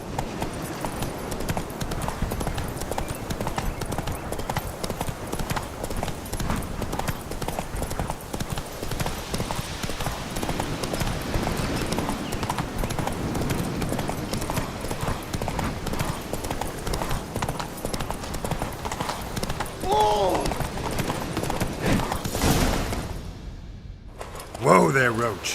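Roach, the horse in The Witcher 3 game, gallops with rapid, continuous hoofbeats across the whole stretch, loud and close, with talking layered over it, before the hoofbeats slow and end with a brief snort near the finish.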